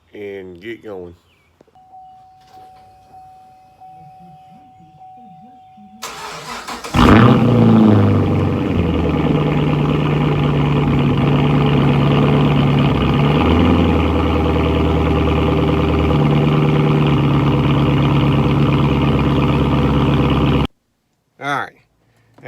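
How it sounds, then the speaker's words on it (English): A 2010 Chevrolet Camaro SS V8 cranks and catches with a sudden loud roar, then settles into a steady, deep idle rumble close by for about fourteen seconds before cutting off; someone speaks briefly before it starts. "let's get the car started"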